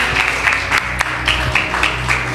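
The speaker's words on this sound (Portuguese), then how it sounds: "Palmas para Jesus." A church congregation claps steadily together in a short burst of applause, dense and close, with no talk over it.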